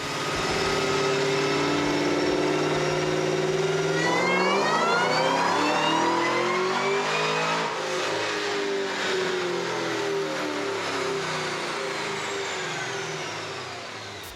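A tuned Cadillac CTS-V making about 980 wheel horsepower revs hard on a dyno, its engine note climbing steadily through a long pull, then peaking and easing off as the loud run winds down.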